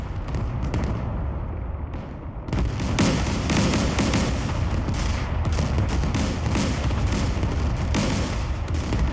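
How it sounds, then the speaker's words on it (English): Tank cannons firing on Iraqi T-72 tanks in the DCS World combat simulator, a dense, continuous barrage of booms and gunfire that swells loud after a quieter opening and stays heavy to the end. "At 12:17 PM, the first rounds rip into the unsuspecting Iraqi T-72s."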